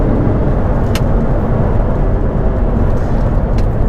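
Audi R8 engine being worked down through the gears, a loud, dense low rumble that stays steady throughout with a couple of brief sharp blips, no voices.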